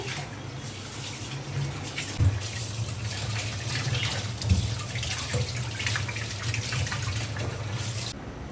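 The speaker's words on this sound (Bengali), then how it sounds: "ইলিশ মাছটা ধুয়ে নিচ্ছি" Tap water runs steadily into a sink while hilsa fish are rinsed, a continuous splashing stream with a couple of louder splashes and clinks as the fish are handled.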